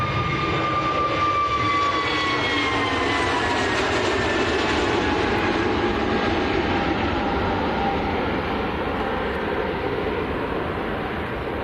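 An EasyJet Airbus A320neo jet airliner roars steadily at close range for the whole stretch, a loud broadband engine rush with high whining tones that slowly shift in pitch as it passes.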